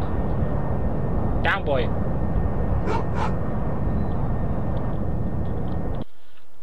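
Aircraft engine noise in the flight combat game DCS World, a loud, steady broadband roar filling the whole clip before cutting off abruptly near the end, with someone briefly speaking over it.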